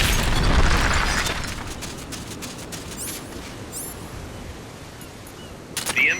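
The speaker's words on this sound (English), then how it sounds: "A grenade should be able to take out that gate." A grenade blows open a gate in the video game Metal Gear Solid: Peace Walker. A loud, close boom opens the clip, then a long rumbling decay fades out, and a few sharp pops and clicks come near the end.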